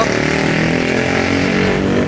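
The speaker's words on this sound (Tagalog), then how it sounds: "napakaingay na motor" A loud, noisy motorcycle engine drones steadily as it passes close by, a harsh continuous rumble that fills the whole moment without pause.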